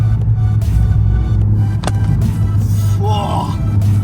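Toyota GR Yaris sliding through a high-speed turn, a loud steady engine drone with a brief sharp transient and a short rising squeal of tyres near the end, heard from inside the car.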